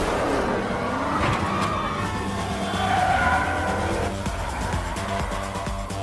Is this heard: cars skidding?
yes